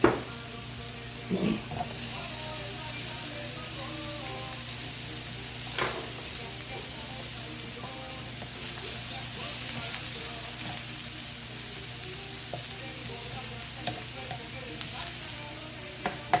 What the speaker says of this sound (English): we're going to throw our onions on the grill